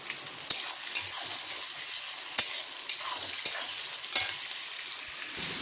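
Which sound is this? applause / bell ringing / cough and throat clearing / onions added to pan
onions added to pan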